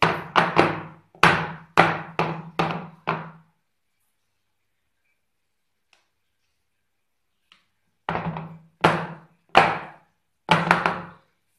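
A series of hollow tapping thumps as a cake tray of batter is knocked down to level it: a quick cluster of about six, a long silent pause, then four more taps.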